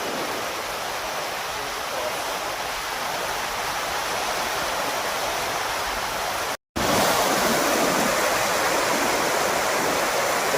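A mighty waterfall at a river crossing roars as a loud, steady, broadband rush that fills the whole clip, broken only by a split-second dropout partway through.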